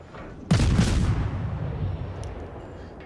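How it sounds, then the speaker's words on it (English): Torpedo hit explosion from World of Warships, fired by the German Tier 4 destroyer V-170: one sudden loud boom followed by a rumbling roar that fades slowly over a couple of seconds, with no talk. "And there's another"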